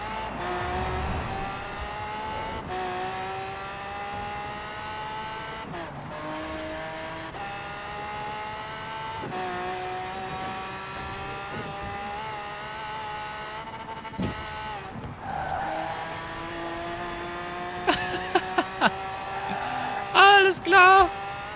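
A Lamborghini Centenario in Forza Horizon 4 revs loudly and continuously, its engine tone climbing and dropping through repeated gear changes, with brief tire squeals near the end.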